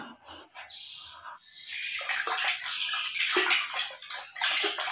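Water splashes and sloshes as small mud-covered toy animals are washed, with bright chirpy squeaks and bubbling over the top, fairly close and busy.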